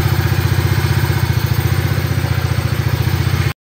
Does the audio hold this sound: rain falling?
no